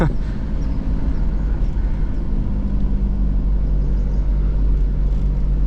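Kia Pregio van cruising at about 60 km/h, a steady low engine and road rumble heard from inside the cabin, continuous and even throughout.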